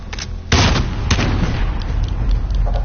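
Precision airstrike explosions in a Call of Duty match: two loud, close booms land about half a second apart, followed by a heavy rumbling roar of further blasts and debris that keeps going.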